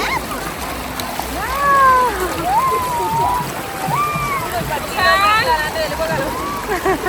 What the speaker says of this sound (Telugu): మిగిలినంతా వాటర్ ఫ్లో ఎక్కువ ఉందన్నమాట